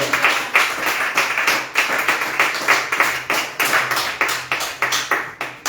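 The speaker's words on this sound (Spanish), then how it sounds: "Puede darle unas fuertes palmas al Señor." A church congregation claps loudly and in unison, a steady rhythmic beat of strong palm claps repeating about twice per second, close and forceful, with no talking.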